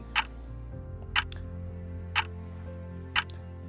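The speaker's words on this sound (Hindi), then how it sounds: "टिक कर रही थी।" A railway station clock ticks slowly and steadily, four distinct ticks spaced about a second apart over a low, constant hum in a quiet room.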